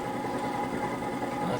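An engine running steadily at 1550 RPM driving a fan, a continuous even drone with airy rush, close and moderately loud, no speech.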